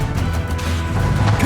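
Bombarda blasting spell impact in Hogwarts Legacy, a dense, loud crashing thud over a continuous rumbling game mix lasting about a second and a half.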